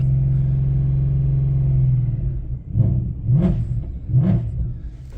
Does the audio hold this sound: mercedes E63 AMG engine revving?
yes